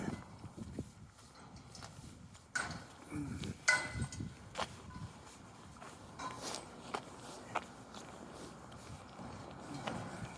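Footsteps walk along a residential street in Dartmouth on a chilly February day, a faint, steady patter with a few louder scuffs and knocks against low outdoor background noise.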